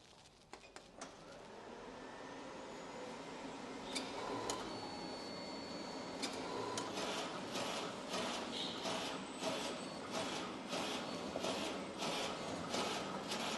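A Horizon DocuCutter DC-645 slits and trims printed sheets into business cards, a steady mechanical whir building up after startup, with regular clicking and clacking of the cutting cycle running continuously.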